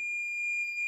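A multimeter emits a continuous steady beep while probing a laptop motherboard for a short circuit, one unbroken tone held loud and clear for the whole second with no talk.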